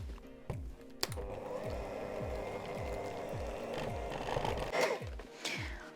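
Electric hand mixer beating cream cheese for a no-bake gingerbread cheesecake: a steady, quiet whirring drone with rhythmic scraping ticks from the beaters against the bowl, close and continuous.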